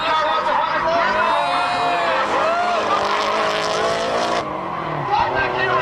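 A drift car at Drift Nats round two sweeps close past the camera with a loud, rising engine roar and tire squeal that cuts off sharply, with a voice talking over it.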